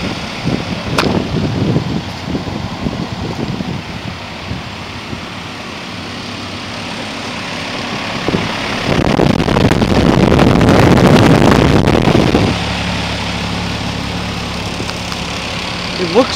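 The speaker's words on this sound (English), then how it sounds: "There seems to be a bit of buffeting from the fan blades, but other than that, it is a very quiet unit." An Airtemp (Nordyne) 3.5-ton straight-cool central air conditioner with a Copeland scroll compressor runs outdoors, a steady low hum with some fan buffeting, swelling louder for a few seconds midway, with wind noise over the microphone.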